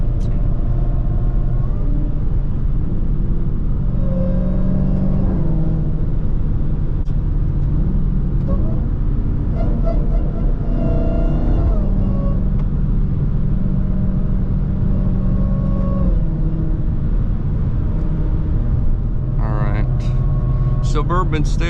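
A Dodge Charger Hellcat's engine and exhaust in sport mode rumble steadily while cruising in highway traffic, a low, continuous drone with slight rises in revs, heard from inside the car beneath someone talking throughout.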